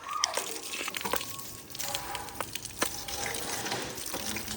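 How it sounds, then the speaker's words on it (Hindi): Water pours and splashes over a motorcycle during a full hand wash, a steady wet gushing with scattered drips and knocks throughout, close and moderately loud. "और इस पर डालेंगे अभी पानी।"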